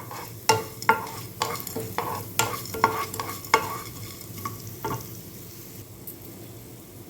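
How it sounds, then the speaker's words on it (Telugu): Black pepper, cumin and fenugreek seeds fry in a pan with a steady sizzle, broken by a series of sharp scraping stir strokes that thin out toward the end, with no talking. "ఇందులో ఇప్పుడు మిరియాలు, జీలకర్ర, మెంతులు చాలా కొంచెంగా తీసుకుంటే చాలు. అది వేసుకొని అది కొంచెం వేయించుకోవాలి."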